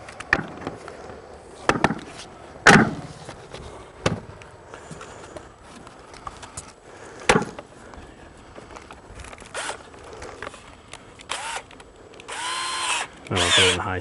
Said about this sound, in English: Then we're going to drill some pilot holes